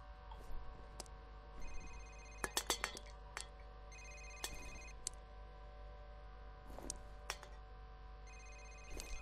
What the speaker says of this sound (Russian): Куда телефон звонит?